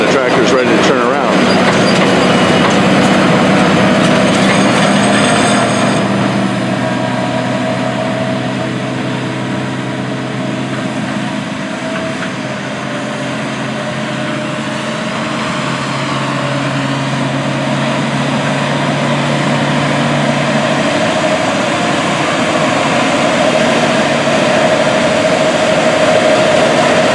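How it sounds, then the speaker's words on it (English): A big tractor pulls a 9-shank inline ripper through hard, dry fall ground in western Kentucky, giving a steady, loud low engine drone with a mechanical hum that holds throughout, with voices talking over it. "this 9-shank ripper is really putting this big tractor to work"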